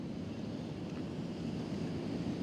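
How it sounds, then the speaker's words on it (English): Strong wind roars and buffets the microphone in a steady, dense rush of low noise. "the winds are strong and the warning is accurate because it is a windy day"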